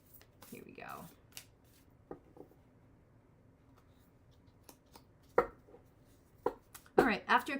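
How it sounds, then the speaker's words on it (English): A tarot deck is handled and shuffled in short bursts of riffling and tapping card sounds, ending in a louder flurry of shuffling, with quiet gaps between. "This deck is not ready for shuffling yet."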